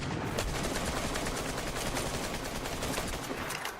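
Rapid AK rifle fire in DayZ rattles continuously in dense, fast bursts for several seconds, loud and close with no talking over it.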